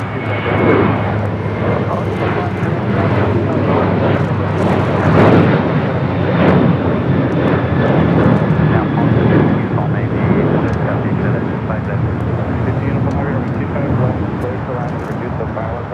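An American Airlines heavy jet roars down runway 25 right at LAX on its takeoff roll, a loud, steady broadband engine rumble holding throughout, with faint radio chatter underneath.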